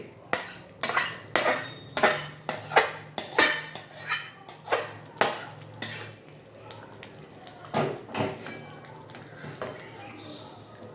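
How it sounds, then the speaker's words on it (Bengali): Spoon or ladle scraping and clinking against a pot as fried spice tempering goes into khichuri with egg and masoor dal, a steady run of about a dozen loud metallic strokes, then a pause and a few softer knocks. "এবার এই ভাজা মশলাটা আমি এই খিচুড়ির মধ্যে ঢেলে দিচ্ছি।"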